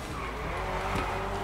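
A car drifting in GTA V Online gives off a loud, sustained tire squeal blended with engine noise, a continuous close skidding screech without a break.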